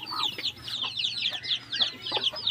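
Chicks cheep in rapid high repeated peeps, close by, with lower clucks mixed in from nearby poultry at a countryside home.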